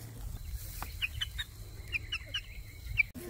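Chickens cluck in short bright calls from inside a chicken tractor in a fall garden, several birds calling in scattered bursts close by over low outdoor rumble, no talk.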